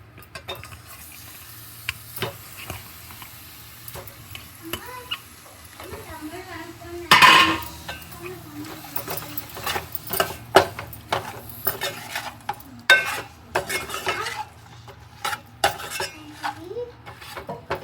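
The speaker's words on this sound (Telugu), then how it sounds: "చేప ముక్కలు వేసుకోవాలి ఇందులోనే." Fish pieces for a fish fry and tamarind pulusu sizzle in a pan as a utensil stirs and scrapes, with clinks of metal on the cookware throughout and a louder clatter about a third of the way in; a voice speaks faintly now and then.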